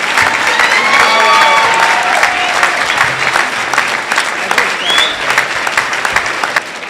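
An audience at a swearing-in ceremony for an assemblymember claps in sustained, dense applause for several seconds, a crowd of hands close and loud, with a voice briefly audible through it.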